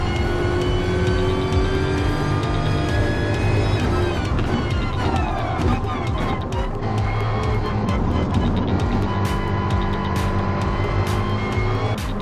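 Racing cars in the video game Gran Turismo Sport, with a loud, steady engine whine that rises and shifts in pitch as gears change, running continuously throughout.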